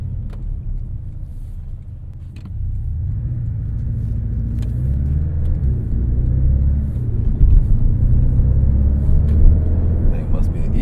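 A Porsche 718 Cayman base model drives along with its engine in eco mode, shifting early; a steady low rumble swells slightly as it pulls, with voices talking over the cabin noise.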